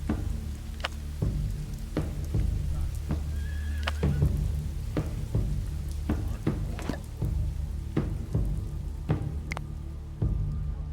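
A feral horse in the survival game Dawn of Man whinnies amid clopping hooves and steady rain, the neighs standing out clearly over a busy, patter-filled background.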